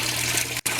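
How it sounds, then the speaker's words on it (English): Water rushing steadily into an aquaponics fish tank during refilling, a loud, constant splashing flow heard close up, briefly cut off near the end before resuming. "So I'm refilling water right there"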